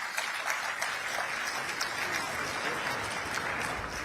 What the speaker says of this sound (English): I think this deserves a round of applause in itself